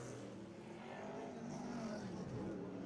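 Race cars circling an oval short track at Autodrome Montmagny Speedway behind the pace car during a caution in the XPN 250, a steady distant engine drone that swells slightly near the end, with no close talk.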